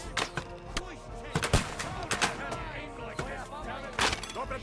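Gunfire in the video game Helpful Henry: sharp shots and short bursts scattered amid dense, busy game sound with voices shouting underneath.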